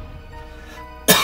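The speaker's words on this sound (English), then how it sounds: "got a cough" A single sharp cough bursts out loud and close near the end, after a stretch of quiet room tone.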